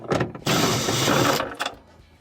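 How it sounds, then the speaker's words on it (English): A 1/4 inch screw is backed out of a refrigerator cover during defrost control repair, with a short burst of a power driver whirring for about a second between brief clicks, close and fairly loud. "I need to remove a couple of screws. There's 1/4 inch directly in the center here."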